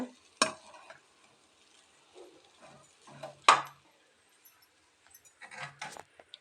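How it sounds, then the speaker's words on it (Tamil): Crumbled horse gram idli upma frying with onion in a pan. Sparse, quiet scraping and stirring clicks come in short bursts with faint sizzling between them. "இப்போ நம்ம அந்த இட்லி உப்புமா நம்ம உதிர்ச்சி போட்டு வச்சு அதை அப்படியே ஃப்ரை பண்ணிக்கலாம்"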